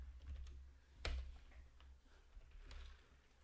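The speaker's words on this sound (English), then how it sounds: "Dude, this is a weird keyboard." Typing on a computer keyboard, a quick scatter of faint clicks and taps with one sharper keystroke, close but quiet with no talk.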